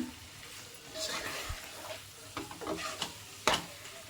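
Salt water added to chicken liver masala frying in a pan, with a soft, continuous sizzle broken by scraping stirs and a few sharper clinks of the spoon against the pan.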